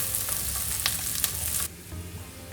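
Bacon and nuts fry in a pan over a low flame, giving a steady close sizzle and crackle with a few sharper pops before the sizzle drops quieter near the end; no talking.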